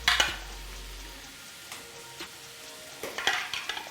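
Onion frying in a pan as a ginger and garlic blend is added, a soft steady sizzle with a few scrapes and taps of stirring, close but quiet, no voices.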